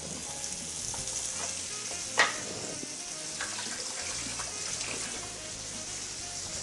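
Honey glazed salmon crisps in a frying pan with a steady, close sizzle of hot fat, broken by one sharp clatter and a few small scrapes.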